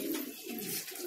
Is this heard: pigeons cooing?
yes